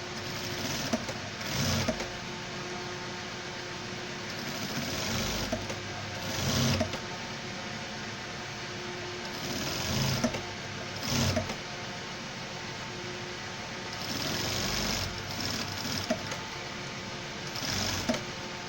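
A sewing machine stitching a pant leg for a chirma pant runs steadily with a fast rhythmic whir, rising into a few louder surges along the seam, close and continuous throughout.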